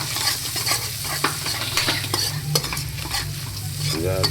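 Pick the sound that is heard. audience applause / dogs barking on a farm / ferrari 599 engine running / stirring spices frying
stirring spices frying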